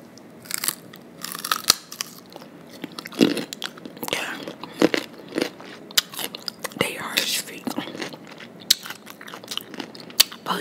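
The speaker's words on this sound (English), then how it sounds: "So I'm gonna bring down some nice crunchy sounds with some carrots and some vegan ranch." Loud, close crunching of raw baby carrots with vegan ranch dip being bitten and chewed, with sharp irregular snaps and soft mouth sounds between bites.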